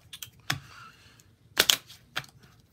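Deck-building game cards being shuffled up close, a few quiet papery snaps and short riffling bursts separated by brief pauses.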